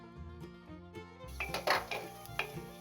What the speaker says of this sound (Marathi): आधी आपण खोबरे भाजून घेऊ.